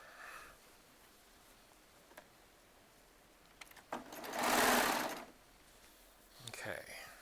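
A serger sewing machine runs in one sustained burst for about a second, stitching jelly roll and charm square fabric, with quiet rustling before and a short whir afterward.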